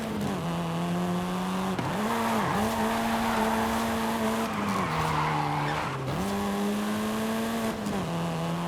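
Volkswagen Golf R, seventh-generation hot hatch, racing in Forza Horizon 5 with a steady, loud engine drone that dips and climbs through gear shifts while tires skid and squeal continuously throughout, with no voices.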